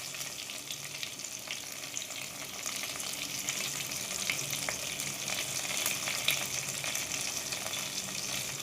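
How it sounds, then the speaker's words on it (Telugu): Rice tossed with avakaya mango pickle sizzles steadily in a hot pan, a continuous close frying hiss with occasional stirring clicks and no talking. "ఈ ఆవకాయ కూడా మంచిగా వేగిన తర్వాత అన్నం వేసుకున్నాం దాంట్లో"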